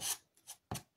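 A rotary cutter slices through ironed fabric along a straight-edge ruler for a quilt block. It makes three short, close, scratchy rasping strokes, with the last one the sharpest.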